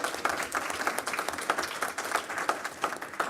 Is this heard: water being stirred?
no